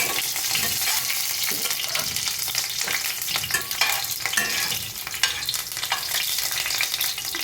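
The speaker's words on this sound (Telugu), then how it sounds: "దాని తర్వాత 3 విరక్కొట్టుకున్న పచ్చిమిరపకాయలు వేసుకుని కాసేపు ఇలా తిప్పాలి." Three broken green chillies stirred in hot oil in a pan: a dense, continuous close-up sizzle and crackle with scraping stir noises throughout.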